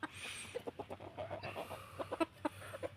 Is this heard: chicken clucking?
yes